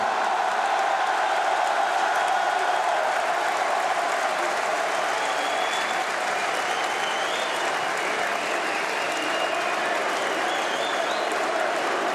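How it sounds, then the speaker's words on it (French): Sustained, loud applause from a large crowd at a political rally in Villepinte, steady and dense throughout, with faint cheering mixed in. "ils sont étourdis par vos applaudissements"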